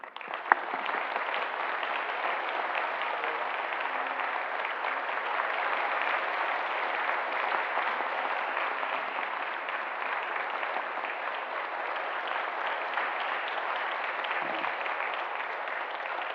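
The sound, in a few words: church congregation applauding in welcome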